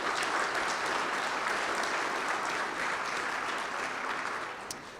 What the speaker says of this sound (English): So let's give them a round of applause for helping us.